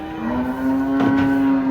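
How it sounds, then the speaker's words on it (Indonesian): A large, aggressive white cow lows while being unloaded from a truck, one drawn-out moo, close and clear, with handling noise around it. "Kedatangan sapi putih galak."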